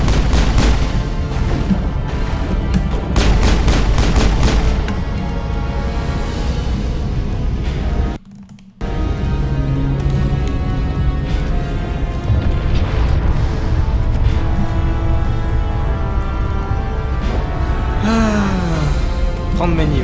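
Gunfire and booming blasts from a turret in the video game Mass Effect, loud and dense with repeated impacts, a short dropout midway, and a voice speaking over the action.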